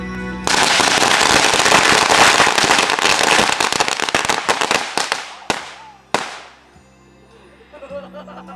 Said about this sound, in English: 20 packs of firecrackers, 20 at least.